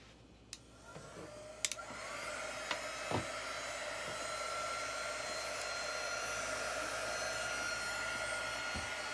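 A hair dryer blows steadily on a craft piece, a continuous close whooshing hum with a few light clicks and taps near the start.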